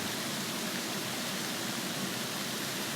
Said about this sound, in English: we have found a waterfall.